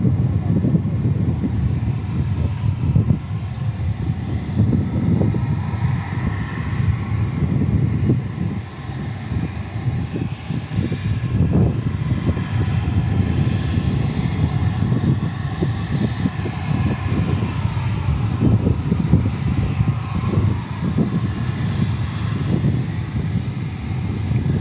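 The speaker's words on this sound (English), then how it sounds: "This 757 is headed to San Antonio." A Boeing 757 jet at Dallas Fort Worth Airport bound for San Antonio, its engines a steady, moderately loud roar with a rumbling low end and a thin high whine, lasting the whole time with no talk.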